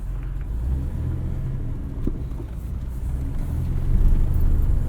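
A 1971 Datsun 240Z idles at about 900 RPM on a cold day of around 30 degrees, a steady low rumble that stays close and even and swells slightly toward the end, with no talking.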